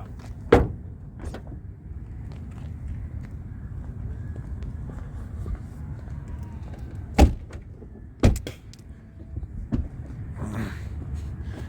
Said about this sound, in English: Let's shut the doors on this real quick and all the latches and stuff